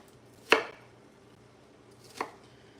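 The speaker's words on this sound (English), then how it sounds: "So I'm just chopping it up real small" Two sharp knife chops on a cutting board through frozen noodles in spicy sauce, one strong near stroke and a softer second about a second and a half later, with no talking.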